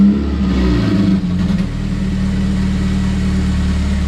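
A Honda K24 engine swapped into a Porsche 996 fires for the first time, settling into a loud, steady rough idle after a brief initial rev.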